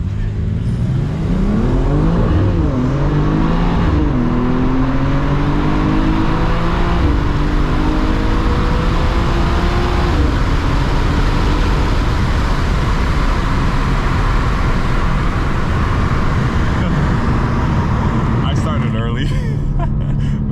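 BMW M2 G87 accelerating hard in a dig race, its engine rising through repeated gear shifts with a loud roaring rev climb heard from inside the car, continuous for the whole stretch.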